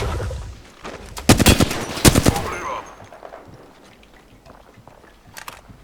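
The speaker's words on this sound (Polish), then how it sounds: "Strzał." Automatic gunfire from the video game Apex Legends comes in two loud, dense bursts early on, then sparse fainter shots and light clatter trail off toward the end.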